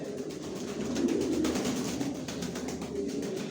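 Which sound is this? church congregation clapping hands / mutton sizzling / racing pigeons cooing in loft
racing pigeons cooing in loft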